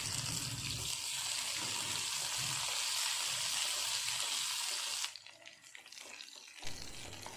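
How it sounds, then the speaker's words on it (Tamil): Green chilies sautéing in a pan for green gram curry give a loud, dense sizzling hiss for about five seconds, then drop to a quieter, patchier frying sound, with no voices. "இது கூட பச்சை மிளகாயும் சேர்த்து நல்லா வதக்கிடுவோம்."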